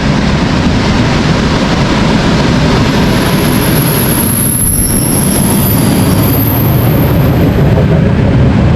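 A Moscow metro train rumbles steadily along the tracks, with a loud, continuous roar and a thin high squeal of wheels rising midway.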